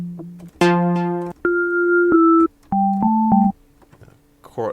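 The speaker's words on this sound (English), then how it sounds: "That's definitely a Hammond." Hammond B3 organ preset on a SynthMaster synthesizer plays a few sustained house-style chords, each held about a second with clean organ tone, separated by short gaps; a voice briefly speaks at the very end.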